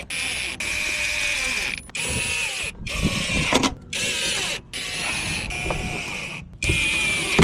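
Mechanical clicking and ratcheting from screwing yellow DRLs into a BMW G20, a steady busy rattle broken by several short pauses, close and fairly loud with no talk.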